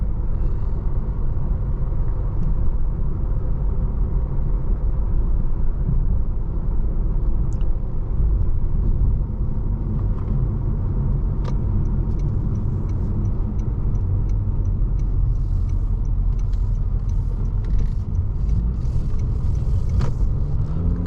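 A 2022 Honda HR-V accelerating on the road, heard from inside the cabin as a steady, loud low engine and road rumble that runs unbroken throughout, with occasional faint clicks over the top.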